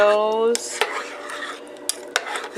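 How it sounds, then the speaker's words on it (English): A spoon stirs golden milk paste into a cup of chai, giving a few sharp clinks against the cup at irregular intervals after a brief ringing tone at the start, faint and close. "I put it in my chai, and I just stir"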